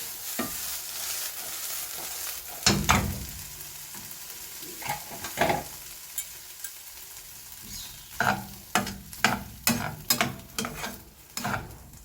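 Vegetables and cooked black rice sauté in butter for a pulao, giving a soft steady sizzle broken by repeated sharp scrapes and stirs of a spoon against the pan, close by and with no voices.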